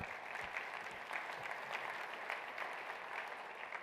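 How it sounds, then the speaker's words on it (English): A keynote audience at a business summit applauds with a dense, even wash of clapping heard from a distance, steady for several seconds, with no speech on top. "I'm excited to hear the applause for that as well"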